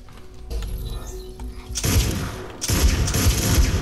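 A shotgun fires in Fortnite Save the World, two heavy close blasts with crashing impacts, each rising out of a quieter ambient stretch.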